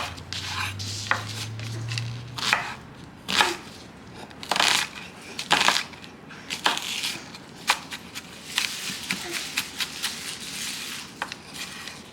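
Onion chopped on a board by a cook wearing gloves: a quick run of crisp knife taps and board knocks, close and fairly loud, with no talking over it.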